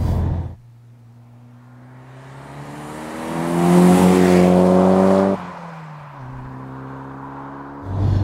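Turbocharged engine of a 1996 Toyota Celica GT-Four revving, rising from a low idle to a loud, strained peak around the middle before dropping back to a steady idle, with a second short rev at the end.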